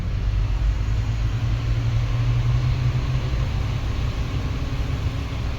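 Inside a moving double-decker bus in Manchester, a steady, loud low engine drone and road rumble fill the cabin without interruption, with no voices.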